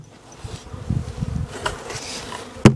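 Honeybees in hive number 7 buzz as the hive is bumped, a close, uneven drone that swells and fades, ending in a sharp knock.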